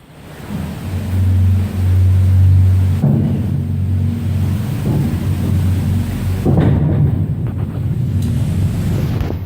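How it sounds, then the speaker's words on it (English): Running water inside Speedwell Cavern, a flooded show cave in Castleton, sounds as a loud, steady rushing roar that continues for the whole stretch. Low rumbling surges occur partway through, and no one speaks over it. "Now you can already hear there is quite a lot of running water in there today."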